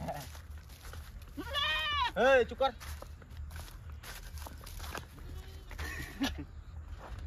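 A goat bleats a few times nearby, with footsteps and people talking around it outdoors.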